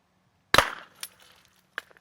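A Galadyan air rifle fired with open sights: a single sharp, close crack, followed by a few faint clinks and taps as the pellet strikes a bottle.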